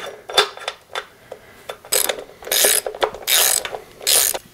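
A ratchet wrench tightening a bolt on an Isuzu 4BD1T engine during a rebuild for a Hitachi EX120-2 excavator: bursts of close, sharp clicking, brief at first and then in longer runs, with quiet pauses between them.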